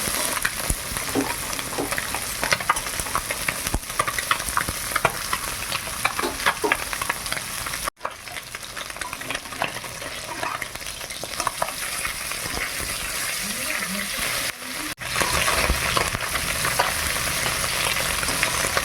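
Small chela river fish frying in hot oil, a loud dense crackling sizzle running the whole time with spatula stirring and two brief cuts in the sound.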